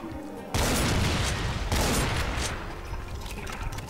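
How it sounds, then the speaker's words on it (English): Loud, sustained blast of an explosion in the video game Brutal Doom, bursting suddenly after a quiet start, surging again midway and then rumbling on into a long noisy tail. "Why did that explosion kill nothing?"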